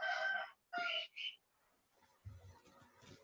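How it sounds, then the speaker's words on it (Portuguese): A rooster crows twice, fairly close and loud, in short strained bursts, followed by faint voices and low background noise. "Tem um galo cantando aí para acordar o povo aí."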